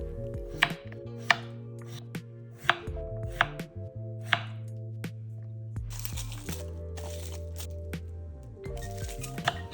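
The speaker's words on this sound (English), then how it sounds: "Thinly slice the onion." An onion being thinly sliced with a knife on a board, steady sharp chopping taps repeating close up, with faint background hum and no talking.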